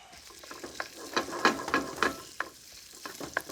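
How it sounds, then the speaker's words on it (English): Ground pork hitting a hot pan and being stirred and broken up, a soft steady sizzle with scraping utensil strokes and small clattering bursts, close and moderately loud with no talk. "Our pan's hot, because things move quickly. All right, so in goes our pork, just like that."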